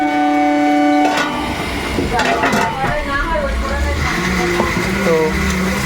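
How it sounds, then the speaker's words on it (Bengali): A Bongaon local train passes close by, a loud steady rumble of wheels and cars with a sustained horn blast near the start and rhythmic clatter of the track throughout. "এখন চলে গেল দেখো বনগা লোকাল চলে যাচ্ছে এখন পাশ দিয়ে বনগা যাচ্ছে এই ট্রেনটি"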